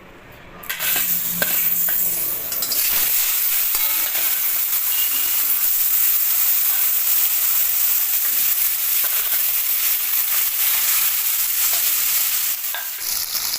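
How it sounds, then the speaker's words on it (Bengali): Tilapia fish frying in hot oil in a karai wok, a loud steady sizzle and crackle running continuously for several seconds, with occasional faint scrapes of a utensil. "এবার আমি কড়াইতে তেল দিয়ে দিয়েছি, মাছটা ভেজে নেব।"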